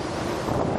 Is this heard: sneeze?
no